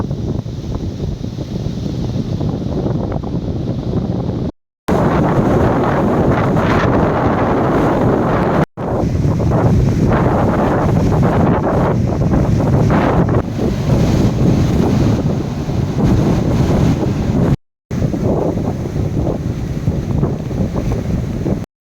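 Rough sea surges up onto the coastal shore at Koottayi Moonnangadi in a strong wind. A loud, continuous roar of churning water and wind buffeting the microphone runs throughout, broken by a few brief cuts.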